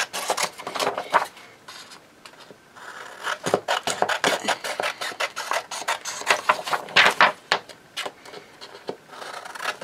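Scissors trim white edges off paper scraps for junk-journal strips, making close, irregular snips and crisp papery rustles and scrapes in uneven bursts.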